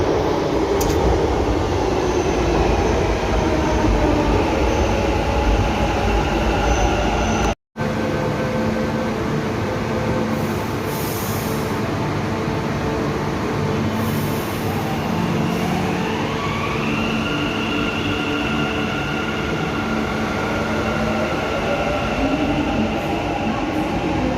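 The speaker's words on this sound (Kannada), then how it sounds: "ಇವಾಗ ರಾಜಾಜಿನಗರ ಹೋಗೋ ಮೆಟ್ರೋ ಬಂತು" A Bangalore Namma Metro train bound for Rajajinagar rumbles steadily into a station, its loud hum and rail noise filling the space, with a rising electric whine as it slows.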